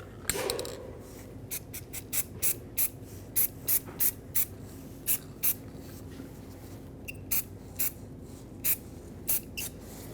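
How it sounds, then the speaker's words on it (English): Brake parts cleaner sprayed onto the parking brake assembly of a 2007-2014 Chevrolet Silverado 2500 HD, about a dozen short, sharp aerosol bursts in a steady rhythm, close and clear with no talking. "Rinse this off with brake parts cleaner."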